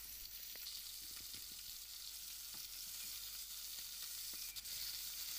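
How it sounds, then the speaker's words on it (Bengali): Fish pieces coated with salt and turmeric fry in hot oil, giving a steady, close, continuous sizzle with faint crackles and no talk. "এখন আমি মাছে লবণ হলুদ মাখিয়ে মাছগুলো ভেজে নিব।"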